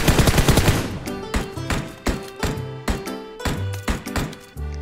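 Rapid automatic gunfire rings out in the shooter game PUBG Mobile, with repeated loud, close bursts separated by brief pauses.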